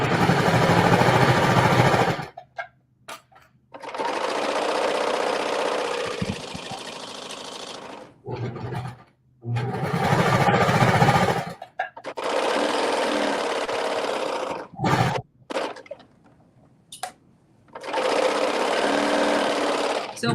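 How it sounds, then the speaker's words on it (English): A sewing machine stitches the back seam pieces of a dress together, running in loud steady bursts of a few seconds each, separated by short pauses. "We're working on the back seam, sewing the back seam pieces together"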